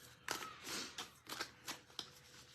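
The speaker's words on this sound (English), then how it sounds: "I'm going to start shuffling cards" Tarot cards being shuffled by hand during an energy reading, a run of soft papery riffles and flicks in a quiet room, several distinct bursts spaced roughly half a second apart.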